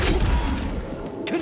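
Flipendo knockback spell cast in the Hogwarts Legacy video game, a dense booming whoosh with a low thump, loud and close over continuous game ambience, rising again near the end.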